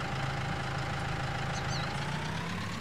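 A tractor engine idles steadily in Farming Simulator 19, a constant low mechanical hum with a faint rising whine running alone throughout.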